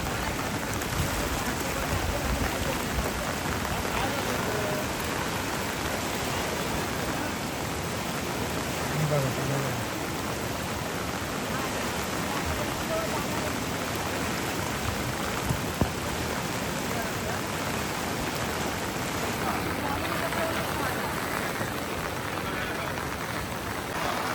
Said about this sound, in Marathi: पाऊस पण खूप लागतो.